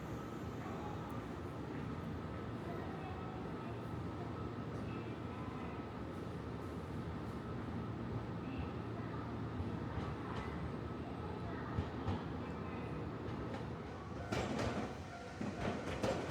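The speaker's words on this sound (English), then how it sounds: "He would go into the station to film the blue train leaving, and I would film it from here going past" A blue Medetai train on Wakayama's Kada Line runs past as a continuous rolling rumble that swells toward the end, with sharper clanks and squeals near the close.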